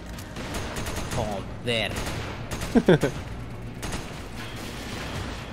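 Shotgun blasts in the video game Resident Evil 5 go off as a few sharp, fairly loud bangs, close together in the middle, under a man's brief spoken remarks.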